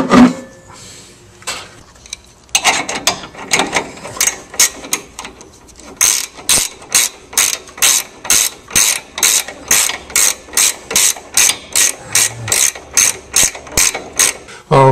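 Ratchet wrench tightening the shock absorber bolt on a C2 or C3 Corvette trailing arm, with a long run of rapid, evenly spaced metallic clicks close by after some handling clatter, no talk.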